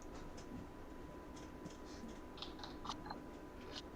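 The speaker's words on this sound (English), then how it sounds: "Ah, they're typing." Soft, quick keyboard clicks tap out in an irregular patter, faint and close, over a quiet background hum.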